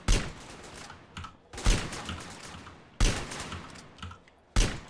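Gunfire from a firefight in the video game GTA San Andreas comes as four sharp, loud bursts of shots spaced roughly every second and a half, each followed by a scattering of lighter pops and clicks.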